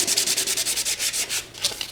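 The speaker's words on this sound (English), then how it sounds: "This is just a little craft sanding pad" Rhythmic back-and-forth scrubbing of a craft sanding pad smoothing brush strokes on Mod Podge, a steady series of close, hissy rubbing strokes with a brief pause near the end.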